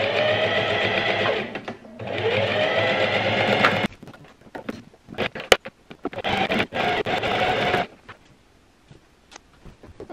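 A sewing machine stitching three fabric pieces onto a centre piece while redoing a room, running in two long, loud bursts separated by a short pause, then quieter handling noises before a final stretch of stitching.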